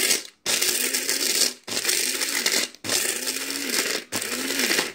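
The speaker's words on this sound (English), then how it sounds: "Okay, coffee grinder." A coffee grinder blitzes food for a cockroach colony in four loud, close bursts, each a harsh whirring grind cut off by a brief pause.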